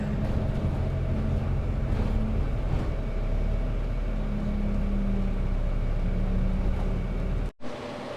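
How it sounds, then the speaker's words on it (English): Steady low rumble of a London bus engine heard from a seat at the back of the bus, a constant drone with some rattling that cuts out abruptly near the end. "Bus is a little bit noisy today. It feels like I'm sitting at the back of the engine."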